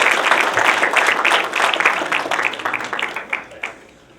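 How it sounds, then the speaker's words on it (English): An audience at a high school science fair applauds the student participants, a dense, loud wash of many hands clapping that holds steady and then tapers into a few last scattered claps. "Please join me in a round of applause to celebrate all student participants' hard"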